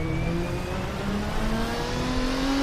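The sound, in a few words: race car engine revving in Assetto Corsa video game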